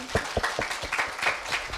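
An audience claps for two students at a middle school speaking contest, a short burst of brisk, fairly close hand claps with a steady, uneven rhythm.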